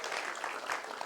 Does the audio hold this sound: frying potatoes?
no